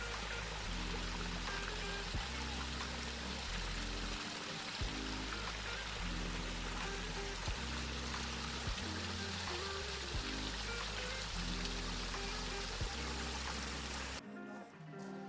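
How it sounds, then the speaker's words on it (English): Water rushing through the NRG garden water feature at a pond garden, a loud, steady, full roar of splashing flow with a low droning hum under it, cutting off at the very end. "I'm raising my voice to compete with the noise of the NRG"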